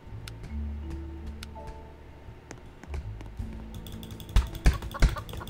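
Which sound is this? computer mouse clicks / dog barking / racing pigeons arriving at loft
computer mouse clicks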